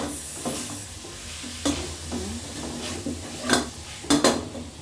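Onions and minced meat fry in oil as a spoon stirs them around the pan, a steady sizzle broken by a few sharp utensil clinks against the pan near the end.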